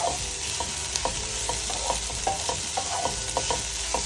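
Onions sautéing for a Thalassery fish biriyani, a steady dense sizzle with regular soft knocks of a stirring spoon against the pan, close and without voices.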